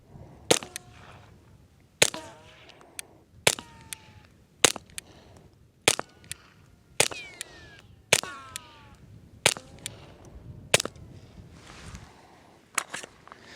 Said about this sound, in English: Really fun to hear them ricochets with the 22.